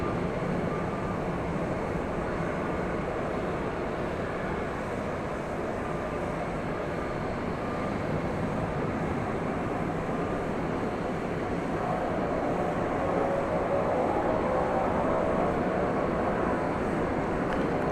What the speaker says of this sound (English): We're about to be photobombed by a UPS plane.